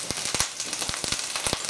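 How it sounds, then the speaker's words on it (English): A single steak sears in a very hot pan, giving a steady sizzle broken by sharp, irregular pops and crackles, close and moderately loud, with no voices. "when you've got the single steak, there's a lot of heat in here, and so you get a pretty good sear up in about 2 minutes"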